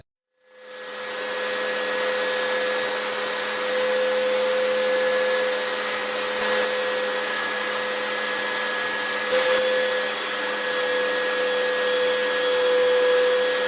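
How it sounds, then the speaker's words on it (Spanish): A belt sander fitted with fine 150-grit paper rounds the edges of a wooden drawer pull, starting up and then holding a loud, steady whine with slight changes as the wood is pressed against the belt. "Ahora redondearé todas las orillas de la jaladera con una lija de banda y una lija bastante suave de 150"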